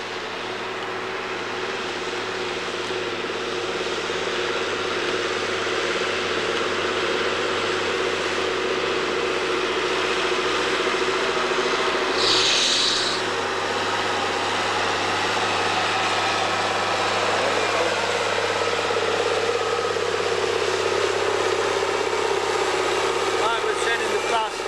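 A loaded colliery vehicle approaches at Frickley Colliery, its engine a steady droning hum that grows slightly louder over about twenty-five seconds, with a brief higher noise midway.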